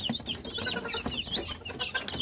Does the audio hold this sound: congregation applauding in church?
no